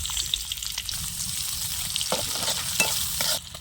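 Onions fry in a pan for a curry, the first ingredient in after frying fish. A dense, continuous hot sizzle with scraping stir noises runs loud and close throughout, with no talking.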